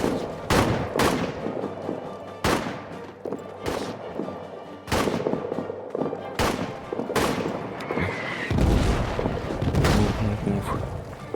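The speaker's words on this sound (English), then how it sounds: "That's the artillery." Artillery fire in the trench-warfare video game All Quiet in the Trenches: a series of heavy, booming blasts at irregular intervals, each with a sharp onset and rumbling tail. Some blasts overlap scattered smaller crackles.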